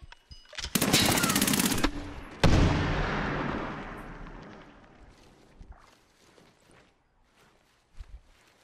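In the Medal of Honor Warfighter multiplayer game, a grenade launcher fires amid a sharp burst of close gunfire, followed by a loud blast that rolls off into a fading rumble, with faint footsteps and a late thud.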